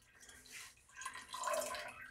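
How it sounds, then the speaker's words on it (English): Water splashes and trickles as it is poured into elderflower mead must, a soft uneven pour swelling toward the end, close and fairly quiet with no talk. "We're going to add in some of the rest of our remaining water"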